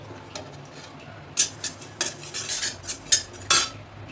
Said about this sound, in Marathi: तर आता भाजायची खसखस.